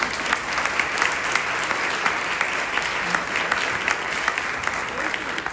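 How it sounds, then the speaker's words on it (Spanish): A full room claps at a tribute event honoring journalist and broadcaster Mirna Pimentel, with sustained, even applause and sharp individual claps cutting through a loud, continuous wash. "Un aplauso."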